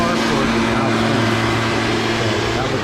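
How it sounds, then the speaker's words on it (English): A leaf blower runs in a yard with a continuous, steady mechanical whine and rushing air, fairly loud and close, with no breaks through the short stretch. "And he's over here leaf blowing."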